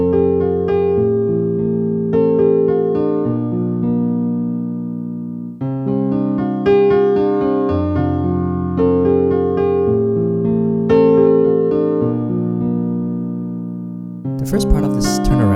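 A piano plays the turnaround section of a song, flowing chords and a melodic line over sustained bass notes, close and full, with a brief noisy burst at the very end and no talking.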